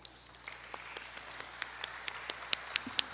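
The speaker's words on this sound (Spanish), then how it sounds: "Fuertes aplausos." Audience applause at the close of a Peruvian press panel discussion on the 2026 electoral process, with scattered individual claps that grow denser and louder toward the end, no voices over it.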